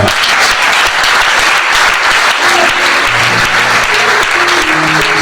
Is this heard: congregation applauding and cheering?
yes